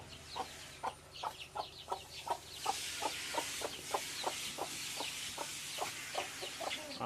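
Chickens and a guinea fowl cluck steadily in a regular, repeating rhythm, moderately close, over a soft outdoor background hum.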